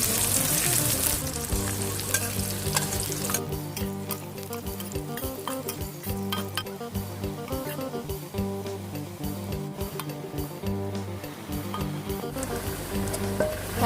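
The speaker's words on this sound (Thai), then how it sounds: "ตั้งกระทะแล้วก็ใส่น้ำมันลงไปนะคะ พอน้ำมันเดือดแล้วก็นำหอมแดงลงไปเจียวนะคะ" Shallots frying in hot oil in a pan give a steady, loud sizzle with a constant crackling hiss and occasional stirring clinks throughout.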